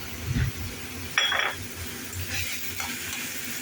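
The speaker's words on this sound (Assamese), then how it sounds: "এইখিনি মই ভাজি ল'ম" Onions frying in a pan for a home fish curry, with a soft steady sizzle, a clink of a utensil and a brief louder burst of stirring midway, heard close up.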